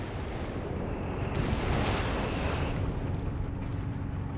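Bishop self-propelled guns fire on enemy armor in the real-time strategy game Company of Heroes 3, with dense, loud rumbling blasts and explosions rolling over each other in a continuous barrage.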